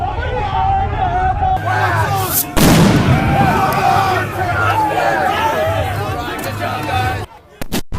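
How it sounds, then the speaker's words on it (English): An M80 firecracker explodes in a crowd at a street protest, a sharp loud bang near the middle that rises over constant crowd hubbub and shouting, with chatter continuing afterward. "Somebody from the Antifa side just threw an M80 into the crowd."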